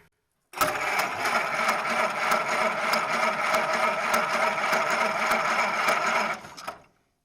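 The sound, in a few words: 1926 Model T Ford engine being cranked over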